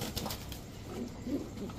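A male Cobra Lal Patti pigeon cooing nearby, soft low throaty murmurs repeating over a dull background hum.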